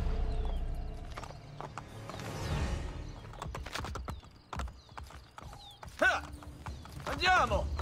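Horse hooves from an Assassin's Creed Brotherhood escort ride fleeing Castel Sant'Angelo in Rome, a steady clip-clop of galloping under shouted voices and game effects, with a whinny and clattering close by.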